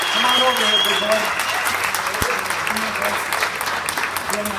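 An audience applauds loudly and steadily at a children's benefit concert for Shriners Hospitals for Children in Sacramento, with a dense wash of clapping and voices mixed in throughout.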